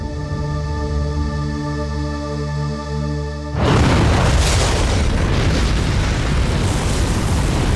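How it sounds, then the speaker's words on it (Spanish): A steady low tonal hum gives way midway to a sudden massive explosion, the 1995 Oklahoma City bombing of the Murrah federal building, its loud rumbling roar sustaining to the end. "La explosión destrozó 324 edificios en más de 10 manzanas."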